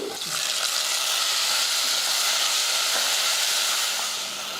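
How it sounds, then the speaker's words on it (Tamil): Shallots and tomatoes sauté in a pan, giving a steady, close hiss of sizzling that holds evenly for several seconds, with a faint stir near the start. "கொஞ்சமாக சின்ன வெங்காயம் போட்டு நல்லா வதக்கிக்கலாம்"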